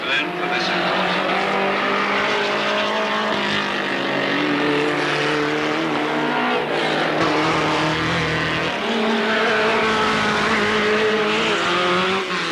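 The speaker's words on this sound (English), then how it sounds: "Everyone revving and going, unit check drops, and away we go then." Super Mod race cars on an oval track revving together and pulling away at the start of a race, a dense, loud engine roar that swells and holds, with a brief dip before surging again.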